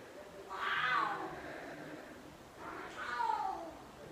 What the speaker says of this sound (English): And Fiddlesticks is meowing.